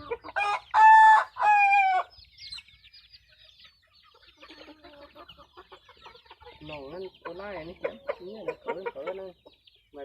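A rooster crows loudly twice near the start, followed by softer clucking and calls from several chickens.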